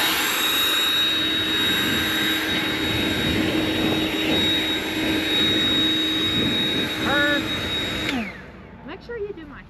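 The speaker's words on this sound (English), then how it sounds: "I went ahead and scooped up everything on the bottom right here while we was waiting on the battery to charge for the blower" A battery-powered blower roars steadily at close range, a loud continuous rushing whine that cuts off near the end, followed by brief voices.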